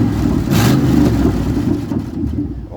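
Chevy 350 V8 engine revving loudly straight off open headers with an exhaust leak, a continuous close, heavy rumble that swells into a sharper rev near the start and stays loud throughout, with no talk.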